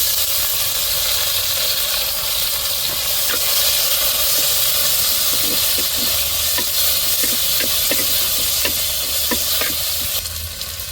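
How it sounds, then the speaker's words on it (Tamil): Curry leaves, chili and tomato crackle and sizzle loudly in hot oil in a pan for a Tamil-style curry tempering, a constant close hiss with small pops and occasional stirring scrapes. "கருவேப்பிலை, மிளகாய், தக்காளி எல்லாத்தையும் சேர்த்துருவோம்."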